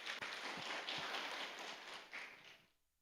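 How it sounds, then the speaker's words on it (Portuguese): Church congregation applauding together, a dense, steady wash of many hands clapping at moderate distance that fades out over about three seconds. "Glória a Deus, vamos aplaudir esse texto"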